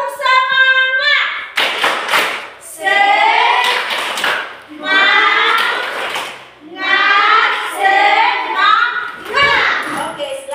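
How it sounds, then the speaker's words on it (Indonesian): Children in a classroom do a rhythmic spirit clap, with several loud bursts of clapping in a steady pattern mixed with chanting voices. "tepuk semangat."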